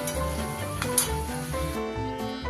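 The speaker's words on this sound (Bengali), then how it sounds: "বাকিগুলোও কিন্তু আমি ওইভাবে আস্তে আস্তে ভেজে নিচ্ছি।" Chicken kachori frying in hot oil, a steady, busy sizzle with light clinks from a utensil or pan, close and continuous with no voices.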